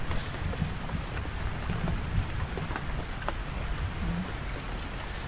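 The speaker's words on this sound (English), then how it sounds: "it's not a storm, it's just rain" Rain patters steadily on a tent at a campsite, a dense close hiss with scattered individual drops tapping on the fabric throughout, no voices.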